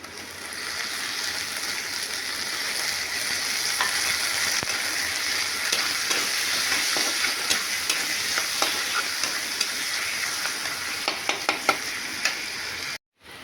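Garlic and ginger frying in oil as the base for a Bengali mutton curry: a loud, dense, unbroken sizzle with scattered crackles and small clicks, cutting off abruptly at the end.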